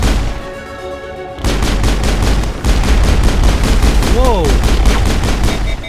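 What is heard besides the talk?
pistol gunfire in the video game Mass Effect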